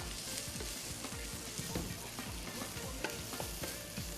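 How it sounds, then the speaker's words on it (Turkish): Tomato paste sautés with spices in a pan, a steady close sizzle and fry with frequent stirring scrapes of a utensil, continuous and fairly loud with no talk. "Evet şu an kavurmaya devam ediyoruz."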